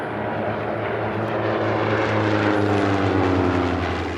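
Racing biplanes in the Biplane Class at the 2021 STIHL National Championship Air Races roar past loudly and steadily, with a droning propeller engine tone that shifts slightly in pitch as they pass close by.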